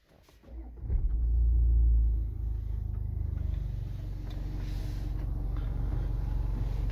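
A 2018 Jaguar XF 2.0D Prestige diesel engine cranks and fires with a deep rumbling surge, then settles into a steady, low diesel idle, heard close and with no talking.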